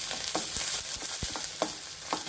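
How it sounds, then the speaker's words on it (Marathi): Onion and finely chopped coriander sizzle in hot tempering oil for a prawn curry, a steady hiss with a few sharp stirring knocks and crackles, close and alone with no talk. "आता आपण घालूया कांदा आणि थोडी बारीक चिरलेली कोथिंबीर"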